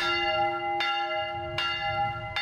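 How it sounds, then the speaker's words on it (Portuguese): A church bell rings out three times at a steady pace, each strike loud and ringing with a long, humming tone that carries between strokes. "As badaladas do sino fazem o convite."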